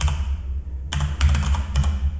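Fingers type on a computer keyboard with a handful of crisp, separate key clicks in an uneven rhythm, up close and fairly loud over a low steady hum, with no speech.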